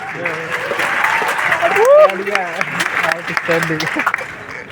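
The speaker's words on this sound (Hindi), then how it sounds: "ये जो ताली बजा रहे हैं" College students in an auditorium clap during a motivational talk, steady applause mixed with shouts, laughter and voices of the crowd.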